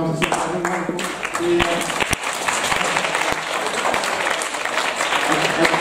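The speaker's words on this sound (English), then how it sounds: "round of applause" An audience at a talk on circuit bending breaks into steady applause, dense clapping filling the room while a voice speaks briefly over it.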